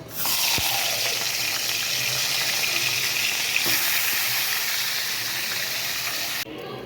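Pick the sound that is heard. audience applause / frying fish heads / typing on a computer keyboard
frying fish heads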